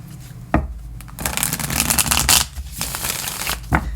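Tarot cards being shuffled in bursts of papery riffling and rustling, with sharp taps at the start and near the end, close and fairly loud.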